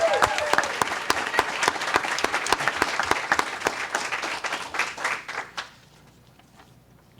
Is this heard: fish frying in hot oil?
no